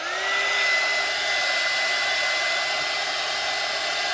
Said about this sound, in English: I'm gonna hit these with the blow dryer real quick.